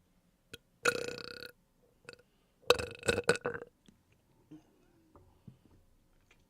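A person makes burp-like throat sounds in two short bursts, about a second apart, close and fairly loud, with small clicks and quiet gaps in between.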